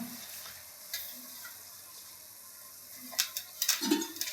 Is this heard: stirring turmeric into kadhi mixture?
yes